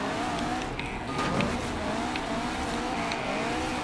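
A KTM X-BOW GT4 race car in the Forza Horizon 4 racing game held at full throttle, its engine droning loud and steady with wavering pitch as it slides, with tyre noise and no talk.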